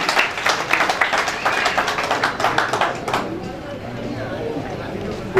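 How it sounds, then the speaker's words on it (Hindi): A hall audience gives a sustained burst of clapping in remembrance of the late Jamil Abbasi, dense and loud for about three seconds before fading into a murmuring room. "तो जमील अब्बासी मरहूम को याद करते हुए भरपूर तालियां बजाएं उनके लिए।"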